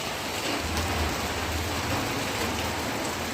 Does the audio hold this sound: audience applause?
no